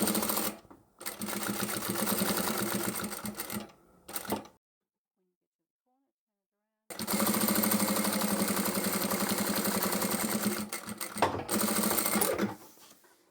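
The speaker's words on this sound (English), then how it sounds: "Move forward a little bit, backstitch again." A sewing machine stitches fabric scraps and backstitches, running in loud rapid bursts with a short stop near the start, a silent pause of a couple of seconds, then a long steady run ending in a brief final burst.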